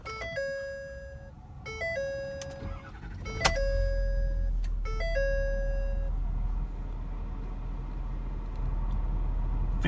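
A 2014 Ford F-250 Super Duty Platinum 4x4 with a 6.7 Power Stroke diesel cranks and fires into a steady, deep idle after a series of dashboard warning chimes.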